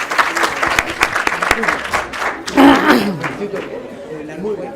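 Applause for panelists at the close of a clinical meeting, loose scattered clapping from a modest audience up close, mixed with voices and chatter as the session ends.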